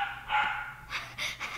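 A small dog gives a few short, high yips and barks after a brief whimpering cry, close by, in bursts separated by short gaps with no talking.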